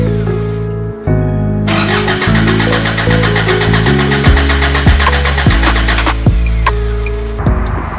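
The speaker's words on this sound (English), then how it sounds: "So now we'll just crank it till we get flow out of that return" A Toyota pickup's TDI diesel engine cranks over steadily and loudly at close range, a continuous mechanical churn with a rhythmic starter beat that carries through to the end without catching.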